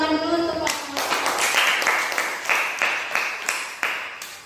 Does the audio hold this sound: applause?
yes